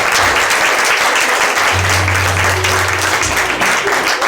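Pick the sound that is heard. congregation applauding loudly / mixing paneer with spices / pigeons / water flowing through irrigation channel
congregation applauding loudly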